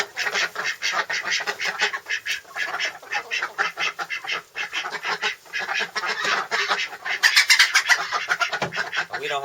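Khaki Campbell ducks in a coop quacking loudly and close, a dense chorus of rapid overlapping quacks and honking calls in irregular bursts that continue without pause.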